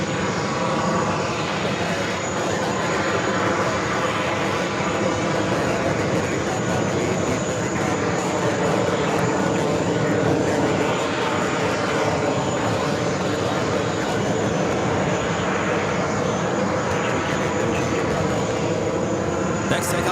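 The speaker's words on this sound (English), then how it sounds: "Then American Dreamliner coming up from Rome, flight 235" An American Airlines Boeing 787-9 Dreamliner arriving at JFK on a flight from Rome, a steady, broad jet roar that holds loud and even throughout, with a thin high whine riding above it.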